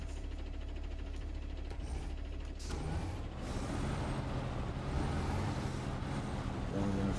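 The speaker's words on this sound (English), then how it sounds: "detach trailer" A trailer detaches from a truck in the video game SnowRunner, with a sharp hiss of air brakes releasing midway over a steady idling diesel engine rumble.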